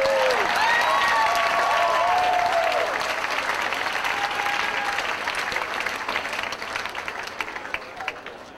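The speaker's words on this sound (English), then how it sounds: "Let's get a big round of applause for the NPL graduates." Steady crowd applause fills a hall at a 2006 USC commencement ceremony as graduates are honored, with a few whoops early on, continuing evenly and gradually easing in loudness.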